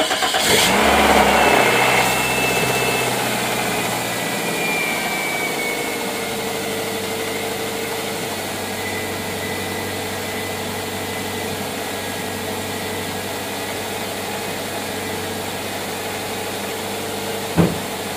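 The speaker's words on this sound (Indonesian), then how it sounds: "Nah, sudah hidup, lampunya juga sudah hidup, dan kita coba untuk starter." A car engine cranks on the starter and catches, a brief louder burst near the start, then settles into a steady, even idle that runs on for many seconds, close and alone, with a small knock near the end.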